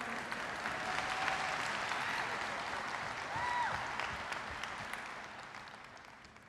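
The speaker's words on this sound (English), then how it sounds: "A big round of applause." A keynote audience at an architecture, engineering and construction conference breaks into sustained applause, a broad crackle of many hands that swells slightly and then tapers off toward the end.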